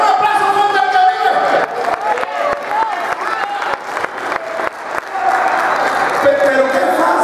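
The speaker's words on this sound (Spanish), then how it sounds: "¡Den un aplauso fuerte al que vive!" A church congregation at an evangelical service claps loudly and steadily, with shouted voices and talk mixed into the applause throughout.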